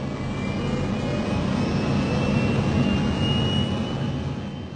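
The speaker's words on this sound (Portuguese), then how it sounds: "O avião está na pista, acelerando, ficando muito rápido." A fixed-wing airplane accelerates down the runway for takeoff, its jet engines roaring loudly and steadily with a deep rumble and rising whine throughout, no speech over it.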